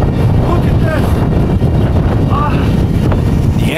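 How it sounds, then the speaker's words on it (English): Strong hurricane wind gusts roar across the microphone with constant loud buffeting and rumble, steady throughout with brief faint whistling tones, and no clear speech over them. "Havoc here with these gusts."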